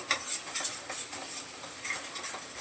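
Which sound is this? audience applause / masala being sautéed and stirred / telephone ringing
masala being sautéed and stirred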